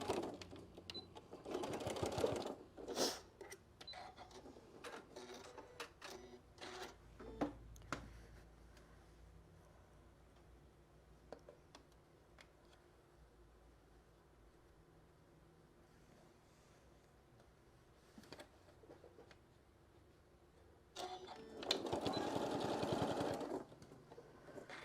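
A serger sewing machine stitches fabric seams for a shoulder wrap, with loud bursts of whirring motor at the start and end and softer clicks and handling noises between.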